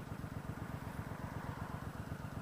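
Bobber motorcycle engine idling close by, a steady, even, low chugging pulse with a faint clatter, alone and unchanging throughout.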